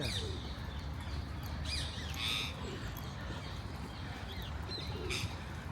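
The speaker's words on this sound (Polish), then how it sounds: "To jest jakaś ptaszarnia w ogóle." Soft pigeon coos and scattered bird calls in an aviary over a steady low rumble of background noise, with a few brighter chirps rising now and then.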